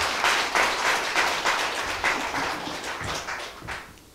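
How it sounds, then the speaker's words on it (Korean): An audience at a lecture hall presentation on acupuncture and moxibustion welcomes a speaker with applause, a few loose claps, uneven and fading toward the end, fairly close and alone. "큰 박수로 맞이해주시기 바랍니다"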